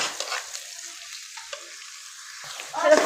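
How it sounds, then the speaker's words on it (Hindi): Small pieces of chopped chicken fry in a pan with onions, giving a light crackling sizzle with a few scraping stirs, the frying swelling louder near the end. "इन्हें भी अच्छे से फ्राई कर लेना है चिकन को।"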